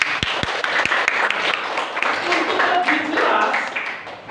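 A class gives a round of applause after a grade 6 lesson, steady clapping from many hands with voices mixed in underneath.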